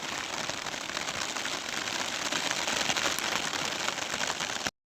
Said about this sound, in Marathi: पाऊस यायला लागला भरपूर